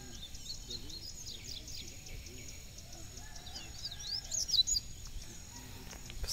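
A papa-capim (capim grego) bird sings softly with thin high chirps and trills over steady outdoor background noise and insects, the song distant and faint.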